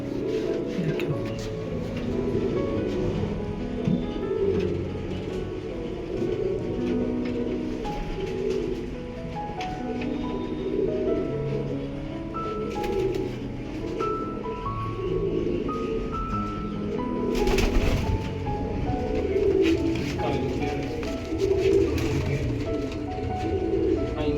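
Pigeons in a loft coo steadily in soft, repeated rounds, close by, with occasional voices and faint background noise mixed in.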